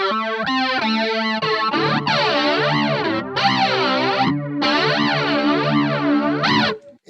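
Electric guitar played through a Digitech Grunge reissue pedal stacked with a DS-1 distortion, giving a loud, saturated, heavily washed-out chordal tone with sustained strums and short breaks, with no voices.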